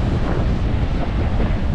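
Stormy sea during a typhoon, with heavy wind buffeting the microphone over crashing surf, a loud, continuous roar close by with no voices.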